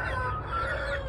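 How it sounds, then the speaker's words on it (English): Chickens cluck in a short burst of close, overlapping bird calls over a steady low background rumble. "I have a lot of chicken."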